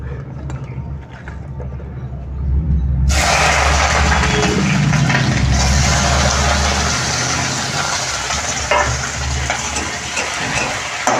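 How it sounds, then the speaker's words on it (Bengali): Onions drop into hot oil in a heated kadai for a Bengali lote fish recipe, bursting into a loud, steady sizzle after a quieter start, with a low hum underneath and occasional stirring scrapes. "তেল গরম হয়ে গেছে এখন আমি পেঁয়াজটা ভেজে নেবো"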